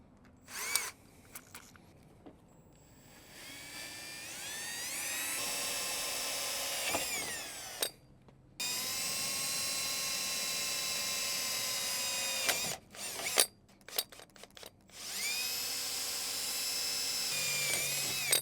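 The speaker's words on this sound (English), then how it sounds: "So I will be using a 3/16 bit just to pilot my holes" A power drill with a 3/16-inch bit drills pilot holes, whining at high speed in several bursts, spinning up and cutting for a few seconds each time, with short pauses between runs; close and loud.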